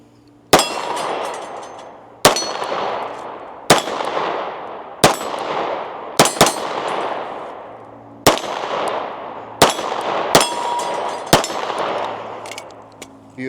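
A 9mm Nighthawk Sandhawk pistol fitted with a large compensator fires a string of loud, sharp shots at uneven intervals, some doubled close together, each cracking report ringing out with a long decaying tail.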